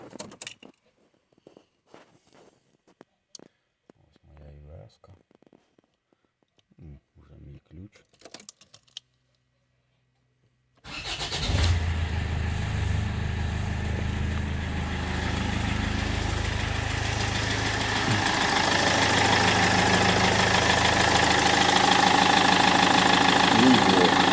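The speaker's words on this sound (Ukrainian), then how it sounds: "Можна пробувати заводити машину." A Land Rover Freelander engine cranks and catches after about ten seconds of keyboard tapping and clicks, then idles loudly and steadily nearby with a slight knock in its running.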